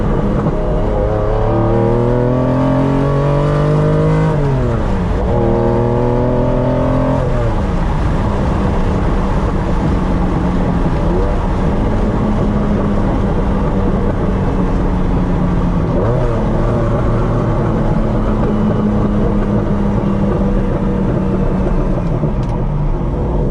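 A Lamborghini Diablo engine drones loud and close during a run over a small bridge, its pitch climbing and dropping through gear changes before settling into a steady cruise.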